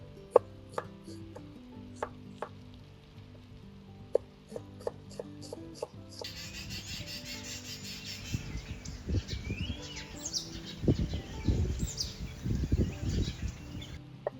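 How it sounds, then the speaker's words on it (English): A knife chops a white onion on a board, a run of dull, close, irregular thuds and scraping rubs growing busier toward the end, over light background music with no talking. "1 white onion. Okay, give that a chop up."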